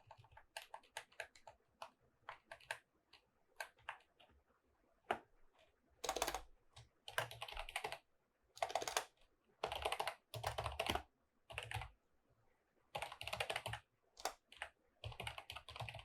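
Typing on a computer keyboard while setting up an Apache server on Ubuntu, with quick clustered keystrokes early on, then louder dense bursts of clatter separated by short pauses, close and with no speech.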